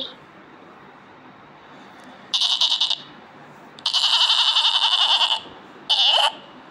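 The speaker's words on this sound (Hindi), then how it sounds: "बकरी" A goat bleats three times, loud and close: a short cry, a longer wavering one, then another short call, separated by near silence.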